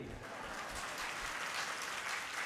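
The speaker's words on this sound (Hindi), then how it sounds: "देखो ताली बज गई" A religious gathering claps together in a short, steady burst of applause, moderately quiet and diffuse, with no clear speech over it.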